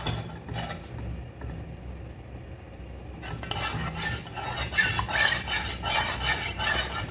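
A mixture with butter is stirred in a pan, starting with a faint sizzle and then giving way to close, rhythmic scraping strokes of a spoon against the metal that grow louder and quicker.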